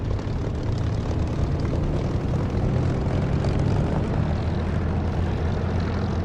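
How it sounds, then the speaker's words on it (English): A De Havilland Mosquito's piston engines in a flight sim drone loud and steady as they throttle up to about 1300–1400 RPM, a continuous low propeller rumble with no talk. "I'll throttle up a little bit. It only wants to be about 13 or 1400 RPM."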